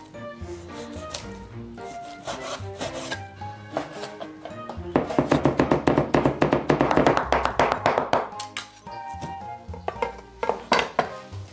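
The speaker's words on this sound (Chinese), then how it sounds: "先剁个肉去" A cleaver chops meat with close, sharp strikes: a few scattered blows at first, then a fast, dense run of heavy chops, easing into slower hits near the end.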